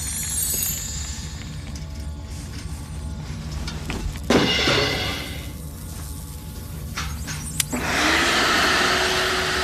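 A household vacuum cleaner runs loudly during a late-night indoor experiment, its motor and fan giving a steady rushing drone that swells and shifts as it is moved, with a couple of sharp clunks partway through.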